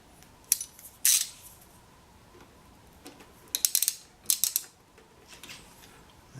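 A wrench working a bolt on a Honda VT600 motorcycle gives sparse metallic clicks and quick ratcheting ticks, some in short rapid clusters, fairly close and quiet with no voices.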